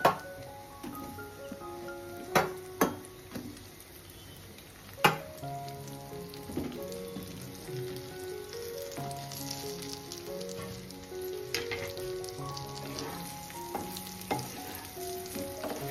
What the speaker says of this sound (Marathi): भेंडीनं आपल्याला आता असंच चारी साईडून आपल्याला शिजवायचे आहेत